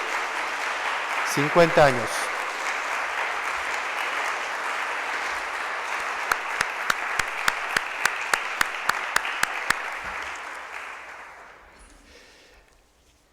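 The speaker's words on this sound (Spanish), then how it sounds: "Vamos a darle un fuerte aplauso de nuevo a don Joaquín" A church congregation at Sunday Mass applauds don Joaquín, the sacristan, with sustained clapping in a reverberant space while a voice speaks briefly over it; near the end a run of sharp, evenly spaced claps stands out before the applause fades.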